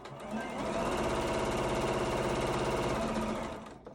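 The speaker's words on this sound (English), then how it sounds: "now I'm going to sew this seam. And again, I'm going to back stitch." A sewing machine stitches a facemask seam with back stitching, a fast, steady mechanical whirring that rises in, runs evenly for about three seconds, then winds down, close and alone.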